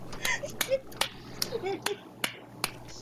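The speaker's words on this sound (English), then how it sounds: "I just clapped slowly for a little bit" Slow, evenly spaced hand claps, about eight sharp cracks roughly every half second, with a voice talking softly in the gaps between them.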